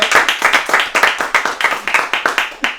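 A small group claps for their sound technician during a studio making-of session, a close, loud burst of distinct hand claps in quick uneven rhythm that carries through the whole moment.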